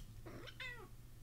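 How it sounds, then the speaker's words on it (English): A cat in the video game Imposter Factory lets out a single short, rising-then-falling meow, faint but distinct over a steady low hum. "Oh, I feel bad for the cat."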